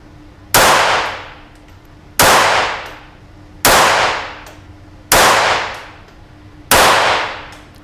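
A pistol clamped in a Ransom rest fires Eley Tenex .22LR rounds: five sharp, loud shots spaced about a second and a half apart, each with a short decaying ring, no talk.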